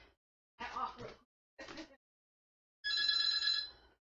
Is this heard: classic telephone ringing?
yes